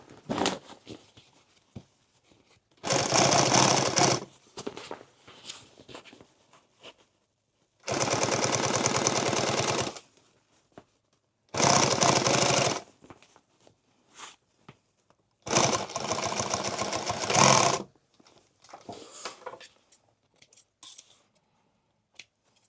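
An industrial sewing machine stitches a heavy XL tool bag in four loud bursts of a second or two each, separated by quieter handling clicks and rustles, with no talking.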